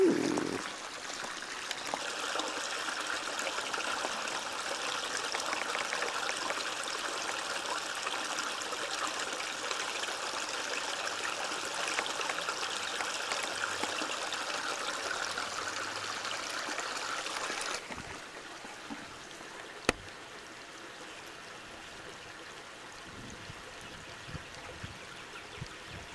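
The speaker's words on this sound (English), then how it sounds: "Look, water." A stream of water flows through woods strewn with freshly fallen trees, a steady close rushing trickle for about eighteen seconds before it drops to a much quieter, distant murmur with a sharp knock.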